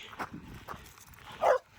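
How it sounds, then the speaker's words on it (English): Dogs outside a log home in Idaho's Teton Mountains give a few short, spaced barks, one louder near the end, against quiet outdoor background. "Here's the dogs."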